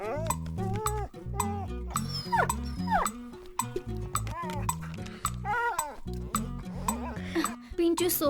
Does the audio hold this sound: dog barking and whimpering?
yes